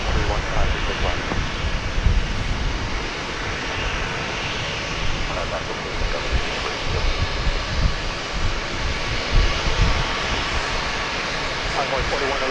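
A steady jet engine roar from an American Airlines airplane at DFW Airport rumbles on throughout, with a person talking over it.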